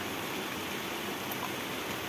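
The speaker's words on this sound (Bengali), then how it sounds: "এখন এই যে বৃষ্টি পড়ছে" Rain falls outdoors on a hot day where cows stand in the open, making a soft, even hiss that holds steady from start to finish with no voices.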